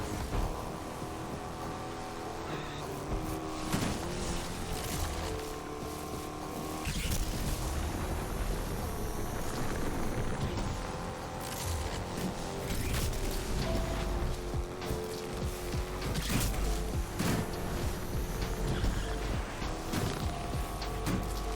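Mercedes AMG C 63 Coupe engine in the racing game Need for Speed Unbound, a steady loud roar with rising and falling revs and gear-shift dips throughout, mixed with game sound.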